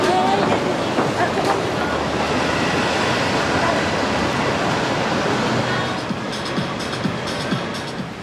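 Train noise in a Tokyo Ginza line subway station: a steady, loud broadband rumble and rush fills the whole stretch, easing slightly near the end, with faint voices mixed in.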